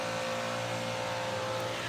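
A loud engine drones steadily outside, a continuous low rumble with a few tonal hums that holds an even level throughout, with no talk over it.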